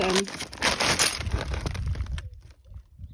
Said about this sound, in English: I'm going to fill up now with the glass bottles bits